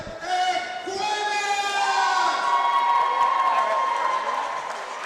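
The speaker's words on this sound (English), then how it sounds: "let's give a big round of applause for his opponent, Eric Quinn!" A crowd at an MMA event cheers and applauds for a fighter, loud sustained whoops and shouts with a high whistle-like tone sliding across the top, no clear talk over it.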